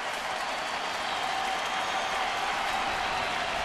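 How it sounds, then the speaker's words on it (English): Sustained crowd applause and cheering fills a San Francisco Giants home baseball stadium during a Mets game, a steady broadband roar with no pauses and no talk over it. "the crowd's still very much into it here on the Bay"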